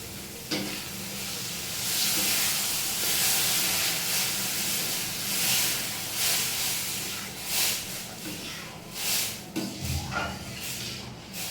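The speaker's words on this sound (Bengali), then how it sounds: "এখানে জল রেখেছিলাম গরম করে, এটা দিয়ে দেবো।" Hot water hits a pan of cooking spinach, soybean, potato and moong dal vegetables, bursting into loud steamy hissing and sizzling that swells and fades in waves.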